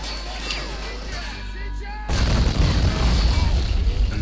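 An anti-tank grenade detonates in the strategy game Men of War, a sudden loud boom about halfway through that gives way to sustained heavy rumble and debris noise over lighter battlefield sounds.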